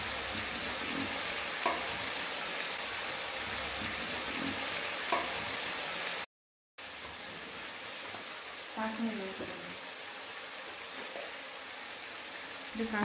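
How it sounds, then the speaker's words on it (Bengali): Spice masala for butter chicken sizzles and fries in a pan as it is stirred, a steady hissing crackle broken by occasional soft scrapes, with a brief dropout midway. "খুব ভালোভাবে কষে নিতে হবে।"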